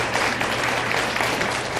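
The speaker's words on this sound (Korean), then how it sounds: "뜨거운 박수로 환호해 주시기 바랍니다" An audience at a social media lecture breaks into warm applause, a dense, even clatter of many hands clapping close and loud throughout, with no talk over it.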